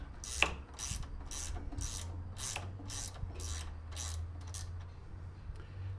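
A wrench ratchets on nuts while assembling a Troy-Bilt StormTracker 2890 snow blower, a quick regular series of about ten dry clicking ratchet strokes, close and fairly quiet.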